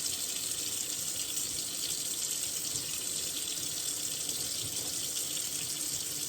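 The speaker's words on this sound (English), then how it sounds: "All right, we're going to turn our sink on. We want to get as hot a water as we can." Hot water runs steadily from a kitchen sink tap while fresh mozzarella curds are prepared, a constant hissing, splashing stream with no pauses and no voices.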